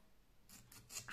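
Scissors snip through a 1.5 cm wide strip of cardstock for craft work, a few quick, faint rasping cuts close by with no talk over them.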